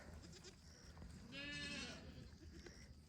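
An evening outdoors with goats: one clear, wavering bleat rises in the middle, faint and somewhat distant, over a quiet background hiss with no talking.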